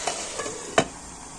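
Curry leaves crackle into chicken curry in a hot pan, with a continuous close sizzle broken by a few sharp spatula clicks, one clearly louder near the end.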